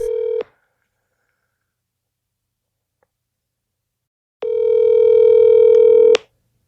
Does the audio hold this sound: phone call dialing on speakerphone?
yes